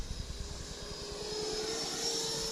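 A Freewing Mirage 2000C 80mm electric ducted-fan RC jet whines steadily overhead, its tone rising slightly as it passes, with a fast fluttering pulse and a light whistle on top.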